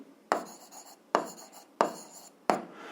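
Pen or chalk writing out an algebra solution in four distinct strokes, each starting with a sharp tap and trailing into a brief scratchy drag, close and fairly quiet with pauses between them.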